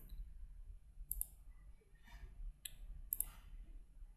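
A computer mouse clicks several times at irregular intervals, crisp and close but quiet, against near silence with no talking.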